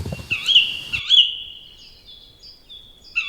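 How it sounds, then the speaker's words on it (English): A baby bird fallen from its nest screams in a forest, with a run of shrill, high chirping cries, a short pause, then more piercing calls, clear and close, with no talking. "Jindo dog heard a bird screaming."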